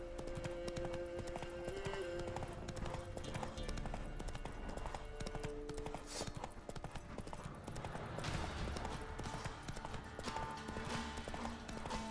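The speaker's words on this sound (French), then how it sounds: "Et maintenant elle peut galoper de nouveau." Roach the horse gallops in The Witcher 3, with a steady, fast clip-clop of hooves running throughout under game music and ambience, fairly faint overall.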